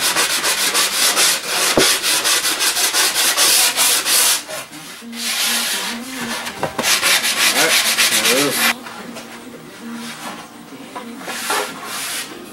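Sandpaper rubs back and forth over a wooden board for a raccoon pelt stretcher, loud close rhythmic strokes in quick runs with short pauses between bursts.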